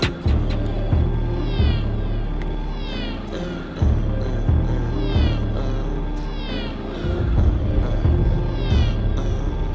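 Repeated cat meows ring out over a heavy bass-driven rap beat, sounding like sampled meowing woven into the track at regular intervals.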